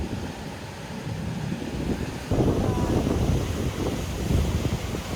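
Gusty ocean wind and surf on an Exumas beach, a loud rushing roar with heavy wind buffeting the microphone that swells midway and stays strong to the end.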